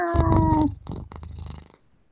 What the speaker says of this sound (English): Oh, I can hear him purring.